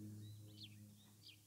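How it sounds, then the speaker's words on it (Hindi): Several birds chirp at a hilltop fort with a palace and pond, a few short high calls rising over a steady low hum, with an aircraft audible overhead. "विभिन्न पक्षियों की चहचहाट आप सुन सकते हैं"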